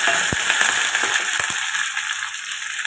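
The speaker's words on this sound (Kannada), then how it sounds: "ಇದಕ್ಕೆ ಸ್ವಲ್ಪ ಸಾಸಿವೆ, ಸ್ವಲ್ಪ ಜೀರಿಗೆ, ಕರಿಬೇವು ಸೊಪ್ಪು ಹಾಕ್ಕೊಳ್ಳೋಣ" Mustard seeds, cumin and curry leaves sizzling hard in hot tempering oil for holige saaru, a loud continuous hiss broken by a few sharp pops and spoon clinks.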